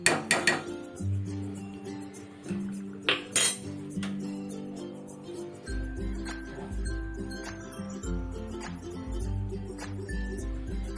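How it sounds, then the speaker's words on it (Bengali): Sandesh mixture being stirred with warm milk in a bowl, with repeated metallic clinks and scraping of a spoon against the bowl, close and steady, alongside tonal background music. "এবার গুলে নেব। একটু গরম দুধ নিয়ে নিলাম গোলার জন্য।"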